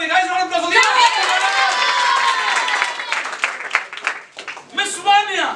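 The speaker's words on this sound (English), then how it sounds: "Guys, round of applause for Deepak." Audience clapping for an award recipient at a felicitation celebration, with loud voices and cheers ringing over the applause throughout, a brief lull, then a fresh burst of voices at the end.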